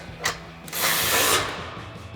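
A tool works a step bar bolt on a Jeep Gladiator JT: a short click, then about a second of whirring, ratcheting mechanical noise, close and fairly quiet.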